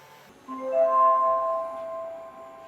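EufyMake E1 UV printer running a print job, giving a steady whine that swells in after a brief quiet start and then holds, close and alone.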